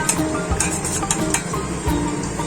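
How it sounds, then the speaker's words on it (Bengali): A spoon clinks and scrapes in a bowl while sour yogurt is stirred into coconut milk, with several quick taps and stirring strokes against a faint sizzle of frying fish in the background; no speech. "ভালো করে নাড়িয়ে নেব"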